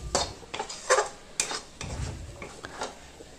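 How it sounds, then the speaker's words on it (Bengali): Spice paste is stirred and fried in a pan, with irregular scraping and clinking strokes of a utensil against metal over a faint sizzle, close and fairly quiet, with no speech. "দিয়ে এই পুরো মশলাটাকে সব কিছুকে খুব ভালোভাবে কষিয়ে নেব"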